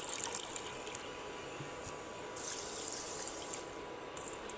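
Water poured from a bowl into a pan holding sugar to make syrup for homemade mango drink, a faint steady trickle and splash running continuously, quiet and close.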